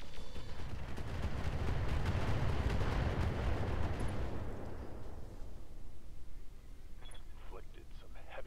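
Mech weapons fire in the Roguetech video game as a dense roaring barrage of blasts and rumbling impacts, loud for about five seconds, then fading to a lower crackling tail with a few faint clicks.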